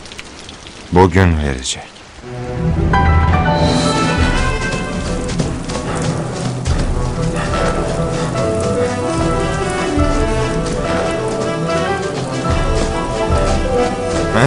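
Steady heavy rain pours down in a forest setting, continuous and loud throughout, with a brief thud and a short line of speech near the start.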